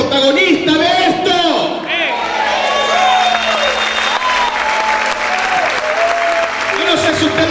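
A church congregation applauds loudly and steadily throughout, with some shouts and whoops mixed in, and a voice speaks over the clapping.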